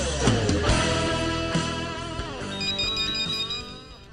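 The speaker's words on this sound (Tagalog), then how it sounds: "Ang telepono." A telephone rings loudly and continuously in a radio drama, a bright warbling electronic tone with steady repeating pulses, alone with no voices.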